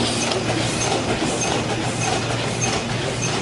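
A card folding and envelope inserting machine runs inside a greeting card factory, giving a loud, steady mechanical roar with a continuous rattling texture and no pauses.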